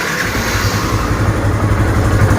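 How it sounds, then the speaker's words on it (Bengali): A used Yamaha FZS V2 motorcycle, Armada blue with about 3,100 km on it, idles steadily, a close, even engine rumble with no talk. "এখন গাড়ির সাউন্ড শোনাবো আপনাদেরকে"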